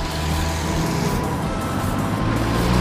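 Steady roar of cars speeding along a busy road at a crossing with no traffic light, dense and continuous traffic noise close by with low engine rumble throughout.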